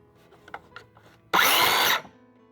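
Cordless power tool running on a fully charged NiCad battery, heard as one loud, steady whir lasting under a second after faint knocks and handling sounds, then winding down.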